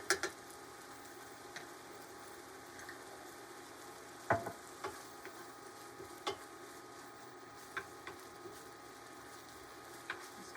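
Minced bottled garlic, two cloves' worth, sizzles quietly in a pan with a steady low frying hiss, broken by a few sharp clicks and scrapes of stirring.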